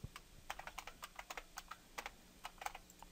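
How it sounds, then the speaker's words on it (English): Quick, irregular clicks from a computer keyboard being typed on at a fast pace, close and fairly quiet, with no voices. "Let me make sure I'm typing everything in."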